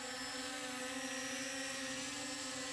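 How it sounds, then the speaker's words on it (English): A Potensic Atom SE mini drone hovers in flight, giving off a steady, even buzzing hum with a high whine that holds unchanged throughout, close by and with no talking. "it has a little different frequency buzz or hum. A little bit larger drone"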